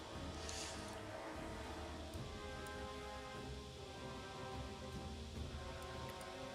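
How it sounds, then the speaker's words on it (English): Warp lightning strikes in Total War: Warhammer II, a continuous crackling, thunder-like rumble with a dense stormy roar and sharp bright snaps, loud and unbroken with no talk over it. "warp lightning it is"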